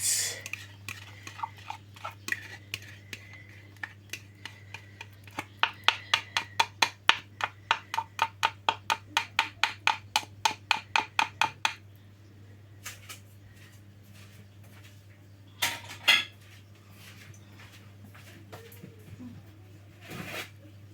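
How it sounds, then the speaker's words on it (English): A spatula scraping leftover egg out of a bowl: a long run of quick, regular scrapes in the middle, then a few isolated scrapes and knocks, close and fairly quiet over a low hum. "I'm just going to use a spatula to scrape it all out"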